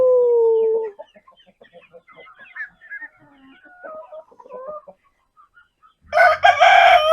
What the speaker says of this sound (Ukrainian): Тут вони вже повилазили, треба ловити цих півників і курочок.